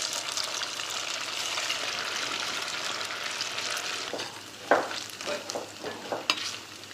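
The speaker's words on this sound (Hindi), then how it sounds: "हम 2 बैचेस में सोया को फ्राई करेंगे" Soya chaap deep-frying in oil, in batches, gives a steady, moderately loud sizzle, followed by a few sharp bursts and splashes as more pieces go in and are stirred.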